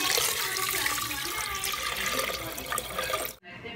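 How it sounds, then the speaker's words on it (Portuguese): Water poured from a tap into a pressure cooker holding browned, salted meat on a home kitchen stove, a loud continuous gushing splash that runs for about three seconds and then cuts off abruptly. "Agora eu vou cobrir de água, tá? Pra deixar cozinhar aqui."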